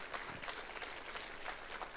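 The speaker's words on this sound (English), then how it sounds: "let's give them all one more big round of applause, please, and yourselves as well" An audience at a school opening convocation applauds, a dense, even wash of many hands clapping that holds steady, sounding somewhat distant and soft throughout.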